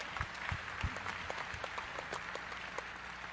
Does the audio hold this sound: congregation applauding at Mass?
yes